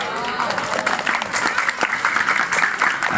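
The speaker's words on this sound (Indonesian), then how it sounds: "Itu tepuk tangan kan percis di TK" Audience at a humorous Sundanese Islamic sermon clapping in a steady, dense burst, loud and close, with broadband claps filling the whole moment and no pauses.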